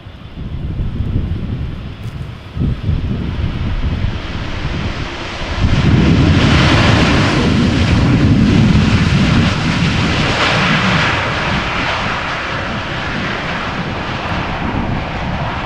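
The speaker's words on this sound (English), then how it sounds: "Now this is KLM flight 604. Boeing 787-10 Dreamliner arriving from LAX." A KLM Boeing 787-10 Dreamliner arriving from Los Angeles at Amsterdam Schiphol Airport roars with a loud, sustained jet engine rumble that swells midway as it passes, mixed with gusty wind buffeting the microphone.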